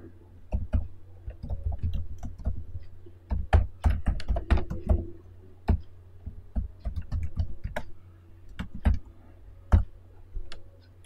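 Code is typed on a computer keyboard in irregular bursts of crisp close clicks, separated by short pauses.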